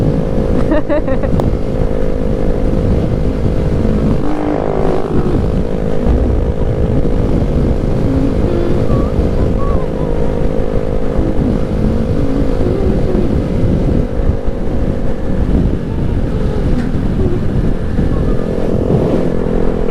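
A 2020 Honda Grom motorcycle cruising at 50 mph, a loud constant engine drone with heavy wind rumble throughout, and someone talking over the noise.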